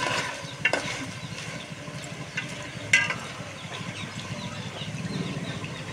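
Gongura chicken curry stirred in a pan: soft scraping and sizzling continue underneath, broken by a couple of sharp clinks of the spoon against the pan.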